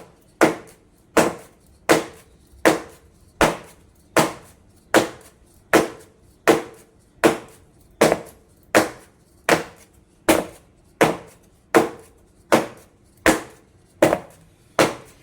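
A buttered cake tin holding banana cake batter is tapped down on a counter about twenty times at a steady rhythm, each knock close and sharp, with no talking.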